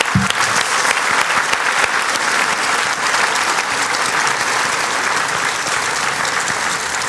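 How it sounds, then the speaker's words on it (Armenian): Audience applause at a women's club show fills the room, loud, dense and continuous clapping from many people close by, with a sharp start and an even roar that never lets up. "Հիմա փորձենք ձեր ծափահարությունները"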